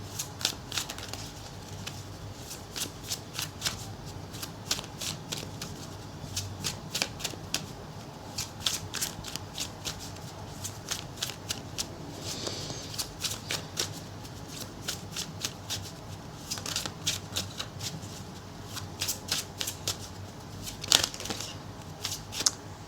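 Tarot cards being shuffled by hand for a love reading, a long run of quick riffling bursts and soft flutters close up, fairly steady with brief pauses, no talking.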